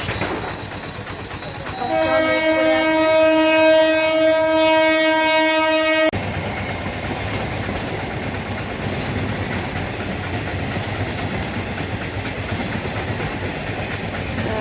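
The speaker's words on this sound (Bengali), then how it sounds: "ট্রেন যাচ্ছে, এটা যদি যদি খোলে তো ভালো" A train sounds its horn loudly in a long sustained blast at a level crossing, then rumbles steadily past with continuous clattering wheel noise, close and loud, with no talk.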